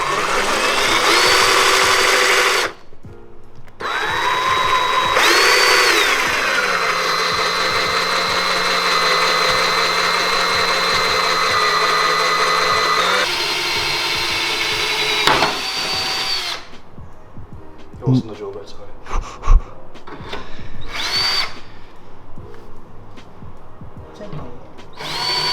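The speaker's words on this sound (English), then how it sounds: "all the pilot holes are drilled" A power drill bores 4mm pilot holes in metal on a Mazda RX7, whining loudly in several long runs with pitch shifts as the bit loads up, broken by brief pauses and clattering handling noises.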